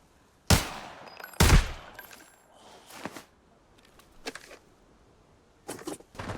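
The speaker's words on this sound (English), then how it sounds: "I heard even more gunshots" Two loud, sharp gunshots from the video game Arena Breakout ring out close by, followed by several fainter, more distant shots scattered across the rest of the clip.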